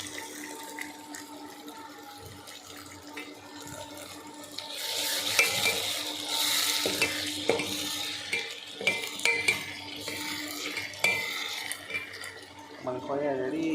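Chicken fries with onions in a pan, the soft sizzle swelling partway through into louder frying with scraping and clinking of a utensil against the pan, close by, while a faint hum runs underneath.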